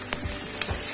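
Onion slices frying on high flame in a pan, a steady hissing sizzle with two brief stirring scrapes, close and continuous through a single second.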